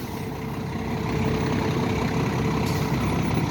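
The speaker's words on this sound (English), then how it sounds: "The water truck." A water truck's engine idles steadily close by, a continuous low diesel rumble with a brief air hiss near the end, during street milling work on Randolph Avenue.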